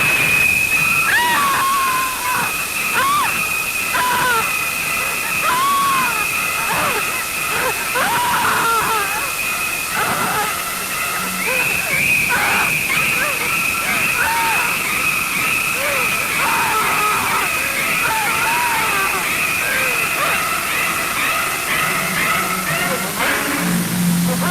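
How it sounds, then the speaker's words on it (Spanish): A shower runs as the background bed of a film excerpt, a constant wet hiss beneath other sounds, with brief chirps and tones layered over the steady water noise. "Esta es la ducha, es el ruido de fondo."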